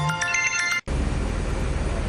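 A mobile phone ringtone plays a bright repeating electronic melody, then cuts off abruptly and gives way to a rougher background noise.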